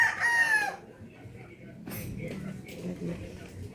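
A rooster crows once at the start, fairly close, followed by quieter background noise and muffled voices, in a rural province during lanzones season.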